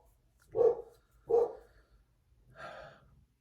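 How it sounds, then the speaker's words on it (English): Two sharp dog barks ring out in quick succession, followed by a softer, breathy huff, close and clear in an otherwise quiet space. "not only can you hear my dog barking"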